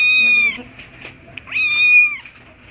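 A small kitten meows twice, close and loud, with a pause between the two high, drawn-out cries.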